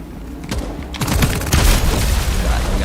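Sniper rifle shots and gunfire in the video game FragPunk, loud sharp cracks with booming tails spread over a few seconds amid continuous game noise.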